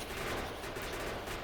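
Continuous rapid gunfire in Factorio, shooting small biters with armor-piercing ammo, forms a dense, steady rattle with no pauses.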